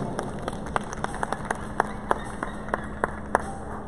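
An audience at a dog show applauds the judge with sparse, spaced claps over a steady hum, with no talk.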